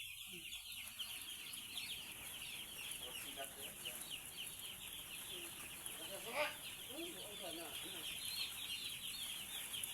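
Young chicks peep in a continuous chorus of rapid, high-pitched chirps, moderately close and fairly faint, with no clear talking over them.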